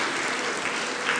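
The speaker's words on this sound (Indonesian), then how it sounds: "Tepuk tangan untuk prodi perbankan syariah" Applause from an audience at a faculty graduation ceremony at an Islamic university, a dense, steady wash of many hands clapping at once, loud and sustained with no speech over it.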